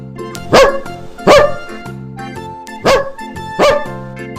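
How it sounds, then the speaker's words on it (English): A dog gives four loud, sharp barks in two evenly spaced pairs over a steady musical backing. "Dog."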